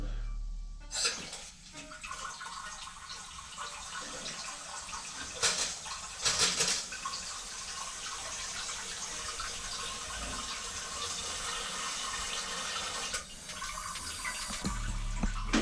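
Water sprays steadily from a Brondell Swash Eco non-electric bidet seat, a continuous hissing rush lasting throughout with brief louder bursts, heard close up with no talking.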